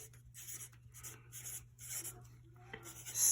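Numbers being written by hand on a surface during a math lesson, with a steady series of soft scratchy strokes in short bursts, close and fairly quiet over a low constant hum.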